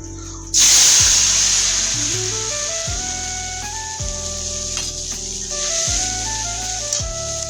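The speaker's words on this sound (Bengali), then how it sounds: "এই আদা বাটা আর হচ্ছে লঙ্কা, এটা এখন আমি দিয়ে নিব তেলের মধ্যে" Ginger paste and green chili hit hot oil with a loud, sudden sizzle that bursts in and then settles into a steady, close frying hiss, with soft background music running underneath.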